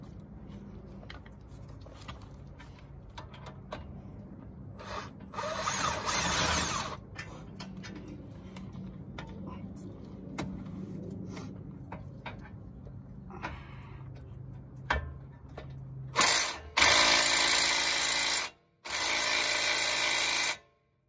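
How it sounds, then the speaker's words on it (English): A 3/8-inch impact gun with a swivel works on 17 mm rear brake caliper bolts, with scattered clicks and ratcheting leading into loud, sustained bursts of whirring and hammering near the end. "I'm gonna use my gun in order to take them off with a swivel"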